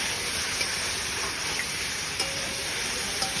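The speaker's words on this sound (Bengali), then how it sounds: "এবার দেখো আবারও কষানো চলছে।" Potato and pointed gourd curry with salt and turmeric sizzling and being stirred in a pan, a steady close hiss of frying with a few soft scrapes of the spoon and no talking.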